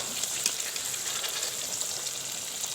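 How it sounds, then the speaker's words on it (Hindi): Fish for a biryani fries in a hot pan, a steady soft sizzle and crackle of oil running without a break and with no voices. "देखें फ़िश हमारी दोनों साइड से फ्राई हो गई है"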